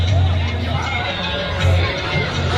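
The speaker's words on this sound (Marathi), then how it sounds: "आपण गर्दी पाहू शकतो. आपण गर्दीत चालतोय." Dense crowd hubbub at the Mhasa fair, the big Khambalingeshwar yatra in Thane district, with overlapping chatter and voices surrounding the listener while walking through the throng.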